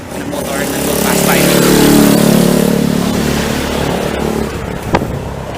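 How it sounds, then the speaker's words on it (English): A jeep and a motorbike pass outdoors, caught on an SJCAM SJ11 action camera with no noise reduction: a loud engine roar swells and fades as the vehicles go by, with voices in the background. "There's a jeep and a motor that will pass"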